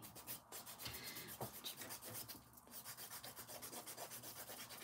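Nail file rubbing against fingernails during a manicure, a steady scratchy rasping of repeated strokes, close and continuous with no talking.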